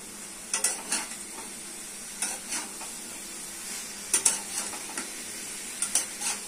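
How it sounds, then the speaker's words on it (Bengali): Potatoes are stirred and fried with chicken in a pan, a faint sizzle running underneath while a spatula scrapes and clinks against the pan in short bursts at irregular intervals. "দিয়ে দিচ্ছি আলু। সেটা ভালো করে কষে রান্না করে দিতে হবে।"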